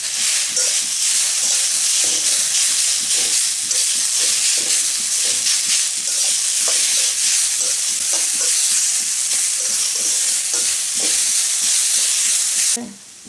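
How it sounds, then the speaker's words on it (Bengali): Potato filling with salt and a pinch of turmeric stirred in a hot pan, rhythmic spoon scrapes and knocks over a loud, steady sizzle, nearby and with no voices. "এখন আমি একটু নেড়ে ফেড়ে নেব।"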